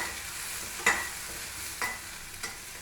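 Chopped green chili and onion sizzling in a pan for a quick sambar, with a soft steady frying hiss and a few scraping stirs of a spoon, low and close with no talk.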